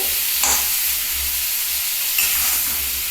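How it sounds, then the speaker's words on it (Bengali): Curry with spices being sautéed in a pan, a steady close sizzle and hiss with faint stirring scrapes, no voices. "এটাকে আরেকটু কষানো হবে"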